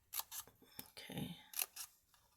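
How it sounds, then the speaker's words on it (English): Scissors snip little slots into a paper craft treat box shaped like a red truck, a few short, close cuts in quick succession with brief pauses between them and faint breathy sounds. "you're going to cut all these little slots"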